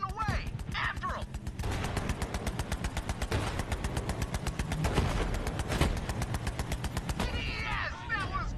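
Rapid automatic gunfire in the Borderlands 3 video game, loud sustained bursts of shots in quick succession with mechanical clatter, and game character voices shouting over the start and end.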